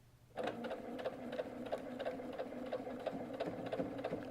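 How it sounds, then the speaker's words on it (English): A sewing machine runs steadily and close, stitching a quilt seam through half square triangle pieces, with a continuous motor hum and rhythmic needle ticks. "I'm feeling as it's sewing that my seam's still locked"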